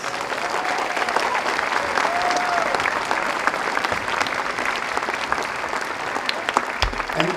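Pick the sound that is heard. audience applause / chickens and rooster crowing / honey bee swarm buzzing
audience applause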